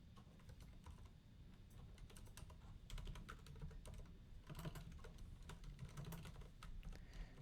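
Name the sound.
typing code on a computer keyboard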